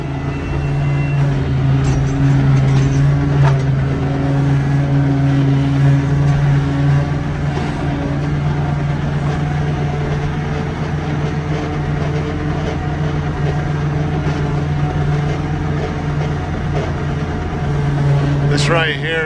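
A 2+2 farm tractor engine runs while warming up, a loud, steady, low rumble with a droning hum that holds throughout, close by and noisy, with no pauses.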